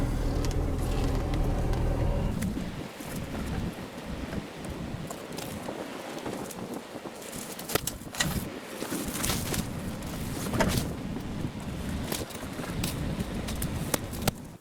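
A car drives along a dirt road through a forest, a low rumbling engine and bumpy road noise with wind buffeting the microphone, occasional knocks and rattles throughout.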